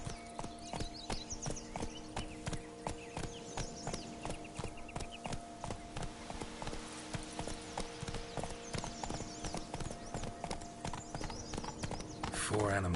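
Roach, the horse in The Witcher, trots in a steady, rhythmic clip-clop of hooves that carries through the whole stretch, quiet and fairly close, with faint game sounds and a brief voice near the end.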